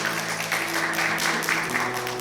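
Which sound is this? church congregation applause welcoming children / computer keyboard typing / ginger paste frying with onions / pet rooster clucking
church congregation applause welcoming children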